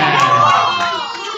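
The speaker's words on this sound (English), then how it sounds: "Please give a big applause" A loud crowd at a children's birthday party erupts in cheering and shouting, with excited young voices yelling together in a brief, dense burst.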